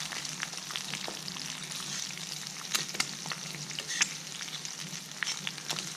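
Breakfast frying in a pan in an off-grid cabin: a steady, moderate sizzle with scattered crackles and pops and a few stirring scrapes, with no talk.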